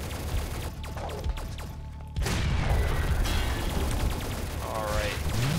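Booming cannon blasts and heavy gunfire from the twin-stick shooter Assault Android Cactus, dense continuous explosions with a sharp louder burst midway, layered over electronic game effects.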